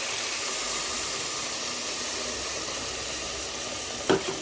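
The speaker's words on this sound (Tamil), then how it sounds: "நல்லா பச்சை வாசனை போகிற அளவுக்கு நல்லா கிளறி விட்டுக்கலாம்." A steady hiss of masala sizzling in a pan with soft stirring scrapes, ending in a single brief clink near the end.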